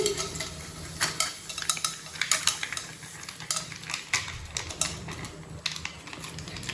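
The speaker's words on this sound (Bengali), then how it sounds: "প্যানটা পুরো শুকিয়ে গেছে, তো এবার আমি পপকর্নটা দিয়ে দিচ্ছি।" Popcorn kernels are tipped into a hot, dry pan, making a close run of sharp clicks, rattles and scraping ticks in irregular bursts, with no voices.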